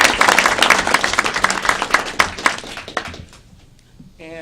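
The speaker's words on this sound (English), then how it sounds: "if you guys would join me in just a round of applause for her." Applause from people at a Texas driver training and traffic safety advisory committee meeting rises in a dense patter of claps, then thins and fades out.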